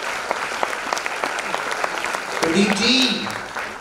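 An audience claps at a Jain religious discourse given by a muni in a hall, a steady patter of hands running throughout while a voice speaks over it.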